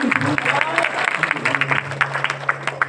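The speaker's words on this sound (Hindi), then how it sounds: "अगेन सर के लिए ताली होनी चाहिए" Audience applause fills a hall during a motivational speech event in Juhu, Mumbai, with steady clapping mixed with crowd noise and a voice speaking over it.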